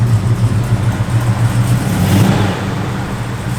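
A 1971 Chevrolet Chevelle SS engine hums steadily while driving, a low droning rumble with a slight swell in the middle, close and continuous with no talk over it.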